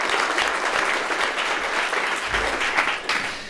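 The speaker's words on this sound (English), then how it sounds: "And tonight, yes, let's do some more applause." An audience at an awards ceremony opening applauds steadily for a few seconds, a full room of clapping with occasional louder claps and faint cheers.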